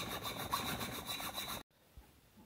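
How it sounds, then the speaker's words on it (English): Hacksaw rasping back and forth through metal while cutting a keyway for a wood gasifier grate agitator, steady close strokes for about a second and a half, then an abrupt stop into near silence with one faint knock. "I'm just going to do it using a hacksaw and files."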